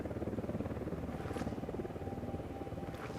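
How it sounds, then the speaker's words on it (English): Helicopter approaching in the video game Ghost Recon Wildlands, a steady rotor chop pulsing rapidly and fairly faint, with no talk over it. "I think he's coming in by helicopter."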